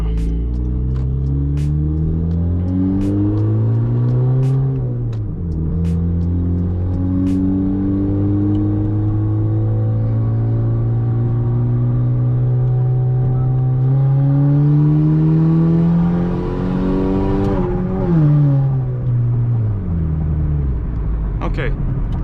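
A turbocharged Honda Civic engine on a tuning session, revving repeatedly with rising and falling pitch sweeps, loud and close, with a sharp blip near the end, and a voice talking over parts of it.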